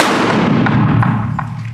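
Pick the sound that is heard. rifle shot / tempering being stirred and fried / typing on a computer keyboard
rifle shot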